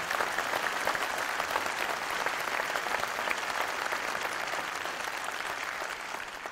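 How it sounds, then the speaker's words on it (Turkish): An audience at a political panel applauds steadily, a dense wash of many hands clapping that fades slightly toward the end. "Ve bugün onun, evet, alkışlamamız lazım."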